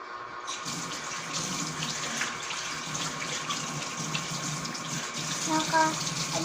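Tap water runs steadily into a sink for washing, a constant broadband rush heard close and fairly loud throughout, with faint background voices and a few clinks near the end.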